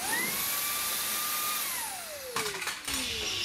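An 18V cordless dust blower from Makita or Ryobi runs with a loud, high whine that holds steady, then winds down. A few bursts of air rush and clatter before it stops.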